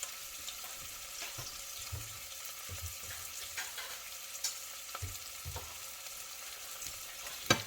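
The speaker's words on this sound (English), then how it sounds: "I'll be browning this on each side to glaze it" Beef ribs browning in an Instant Pot, giving a steady, close, fairly quiet sizzle of frying meat with small crackles and occasional scraping or shifting sounds, with no talking.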